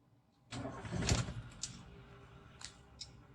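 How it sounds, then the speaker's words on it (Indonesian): A car engine with faulty engine management cranks and starts, then idles roughly and unevenly, with a couple of sharp clicks or knocks afterward, close by and without speech. "Ya, lampu engine check tetap nyala dan mesin bergetar ya, sampai kerasa di bodi"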